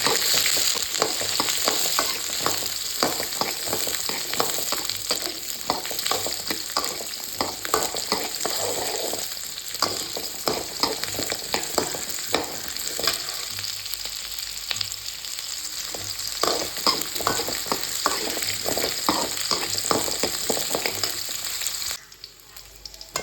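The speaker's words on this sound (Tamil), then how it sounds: "இவ்வளோ வந்து போடணும், போட்டு நல்லா வதக்கணும்." Garlic and ginger sauté in a pan as the base for a Kanyakumari-style chicken curry, a continuous close sizzle broken by rapid repeated stirring scrapes, fairly loud and with no voices.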